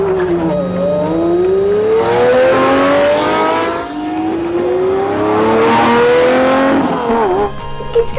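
Supercars race past one after another, engines revving and rising in pitch with tires squealing, loud and close, two long sweeping passes in a row.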